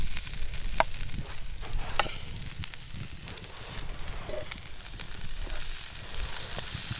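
Food frying on wood embers in a snowy forest camp before an omelette, a steady soft sizzle and crackle with occasional stirring scrapes.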